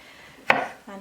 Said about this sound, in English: roughly chopping the garlic.